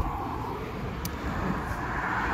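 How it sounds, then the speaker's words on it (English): Road traffic speeding past a residential spot, a steady broadband wash of passing vehicles with a brief sharp click partway through. "Pardon the traffic noise."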